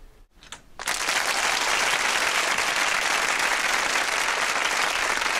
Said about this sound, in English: Okay, enough with the applause.